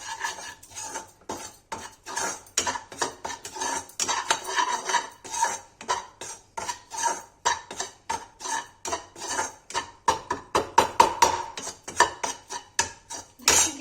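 Wheat flour roasts in desi ghee for a Kashmiri halwa while a metal spoon scrapes and clanks rhythmically against the pan, dozens of quick close strokes in a steady, busy pattern.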